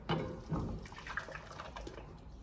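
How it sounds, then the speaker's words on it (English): Liquid vegan cream soup base poured from a container into a pan, a close sloshing, gurgling pour with a couple of stronger splashes early on, then a softer steady trickle. "I'm going to pour it into a pan."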